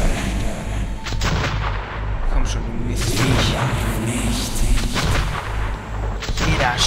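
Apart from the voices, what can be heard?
gunfire in the video game Metro 2033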